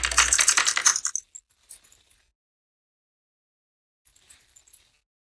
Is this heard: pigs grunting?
no